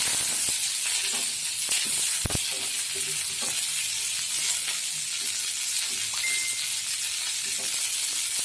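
Cauliflower florets frying in hot oil in a wok for a vegetarian potato-cauliflower dish, a steady broadband sizzle with occasional stirring scrapes and one sharp utensil knock, close and continuous throughout.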